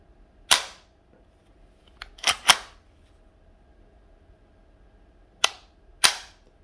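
A PP-2000 gas blowback airsoft submachine gun fires single sharp cracks, two close together in the middle and others spaced apart, each loud and crisp against a quiet background.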